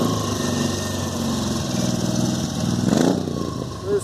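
A small three-wheeler car idles and then pulls away on a London street, its light, buzzy engine rising briefly as it drives off, close by amid steady traffic and street noise.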